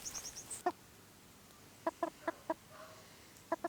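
Young pullet chickens cluck on a homestead in short separate calls spread through the clip, with a few high chirps at the start and a quiet outdoor background.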